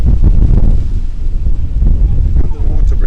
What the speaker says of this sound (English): While it's extremely humid, it's extremely windy.